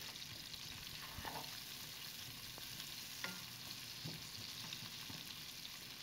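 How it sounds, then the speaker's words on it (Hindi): Chopped onions sizzling and frying in a pan for chicken curry, a soft continuous crackle with occasional stirring scrapes, quiet and steady with no voices. "प्याज को और 2 मिनट के लिए फ्राई कर लेंगे।"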